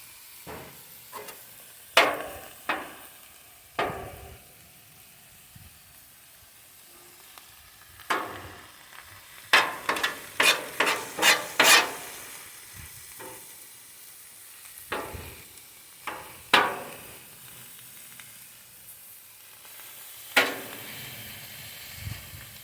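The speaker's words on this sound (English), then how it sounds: "I'm going to start combining them all together, just get them all cooked up" Philly cheesesteak meat and onions stirred on a seasoned griddle: a low steady sizzle broken by repeated sharp scraping clacks of a spatula, clustered in quick bursts, close and with no talking.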